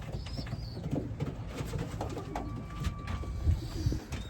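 Racing pigeons coo softly in a loft, low murmuring calls repeating under faint background noise, with a couple of brief higher chirps.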